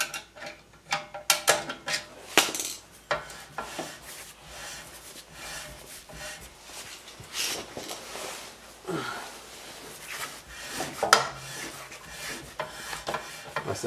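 A Mercedes rear wheel hub with a newly replaced bearing is turned by hand and gives close scraping, rubbing and ratcheting mechanical noises in uneven bursts over roughly fourteen seconds, with brief knocks and no talking.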